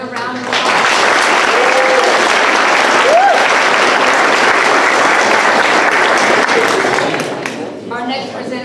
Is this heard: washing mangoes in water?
no